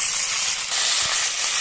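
Soaked fenugreek seeds hit a hot oiled pan and sizzle, a steady broad hiss close by with a faint clink partway through.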